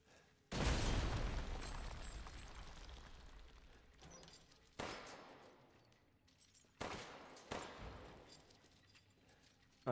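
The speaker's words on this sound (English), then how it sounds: "So I'm just going to use a pipe bomb and break open the wall." Pipe bomb going off against a wall in Resident Evil Village, a sudden loud blast with a long crumbling decay, followed by two more sharp bursts of debris and impact noise, with no talking.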